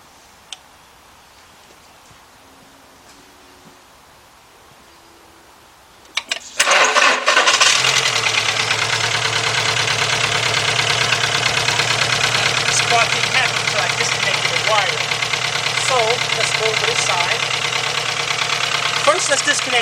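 A Volkswagen engine with a cylinder misfire cranks and catches after a stretch of near silence, then settles into a loud, steady idle with an uneven ticking, knocking beat that runs to the end.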